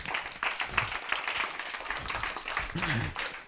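An audience at a German sales training session claps, a short burst of applause of moderate loudness mixed with some talking.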